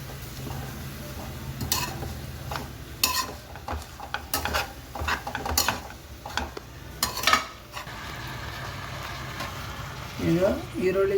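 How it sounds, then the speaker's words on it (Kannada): Spring onion greens fry in oil in a pan for a gojju, with faint sizzling beneath sharp clinks and scrapes of a spoon stirring against the pan at irregular intervals. "ಈಗ ಈರುಳ್ಳಿ ಸೊಪ್ಪು ಚೆನ್ನಾಗಿ ಫ್ರೈ ಆಗಬೇಕು ಎಣ್ಣೆಯಲ್ಲೇ"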